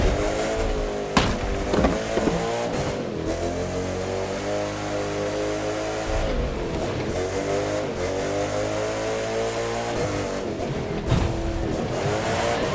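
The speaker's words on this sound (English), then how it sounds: "The most modern cars in the world thundering their way across an antique" Modern race cars in The Crew 2 thunder across an antique covered bridge, with engines roaring steadily and rising and falling in pitch, plus occasional sharp knocks and tire noise, loud and close.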